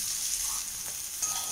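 Barbati long beans fry in a pan with a brief, steady sizzle and a soft stirring texture, close and even throughout.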